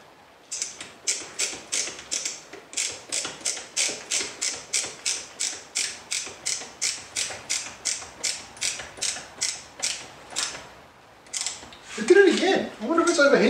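A screw driven into a guitar holder: a long run of about thirty evenly spaced ratcheting clicks, close and steady, ending with a brief louder mechanical whir.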